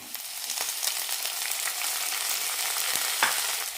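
Chopped tomatoes and green chilies sizzle steadily in hot oil with lightly browned onions for an ivy gourd curry, with occasional soft clicks of stirring over the continuous frying hiss.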